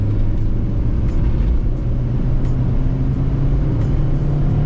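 A black 2005 Volkswagen Beetle 2.0 turbo with a five-speed automatic drones steadily while driving, a low continuous engine and road rumble heard from inside the cabin with no speech.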